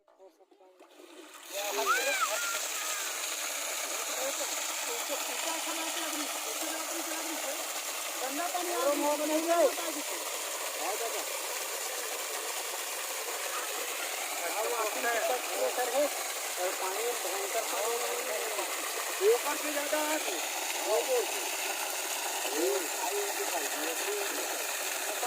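Water gushes from a newly fitted 10 HP borewell motor, a steady splashing roar that starts abruptly and continues for over twenty seconds, with voices talking faintly underneath.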